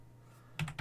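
Brief, quiet pair of keystrokes on a computer keyboard over a low electrical hum.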